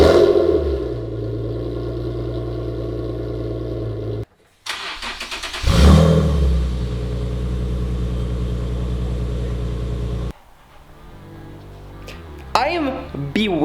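A car engine runs through a homemade exhaust silencer in a garage: a steady, loud, low rumble that cuts out briefly, restarts with a surge and settles into idle, then drops to a quieter hum.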